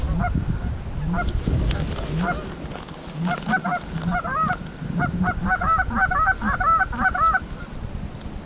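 A flock of geese flying in during a Wisconsin goose hunt honks repeatedly, with clusters of nasal calls growing busier toward the end over low wind-like rumble.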